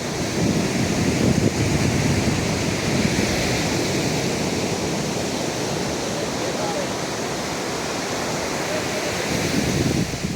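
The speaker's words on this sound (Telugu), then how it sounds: "మనం ఇప్పుడు ఒరాకల్ బీచ్ దగ్గర ఉన్నాం." Ocean surf rolling onto Varakal beach in Kozhikode, Kerala, a loud, continuous broadband roar of breaking waves with wind noise, steady throughout with no clear gaps between swells.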